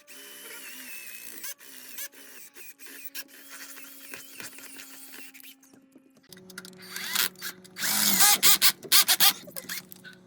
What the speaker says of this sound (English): Okay, we drilled those holes a little bit better.